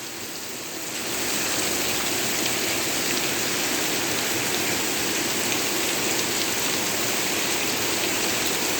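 Heavy rain pouring down, a thick continuous roar that builds within the first second and stays loud and even.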